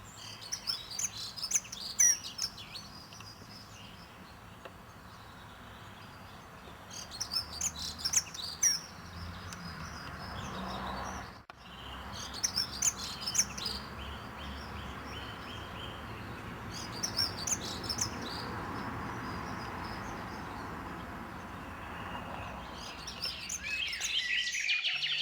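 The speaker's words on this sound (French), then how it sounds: "et pour finir, la fauvette à tête noire." Bright, warbling bird song rises in several rich, varied phrases over a steady background hum, with pauses between outbursts.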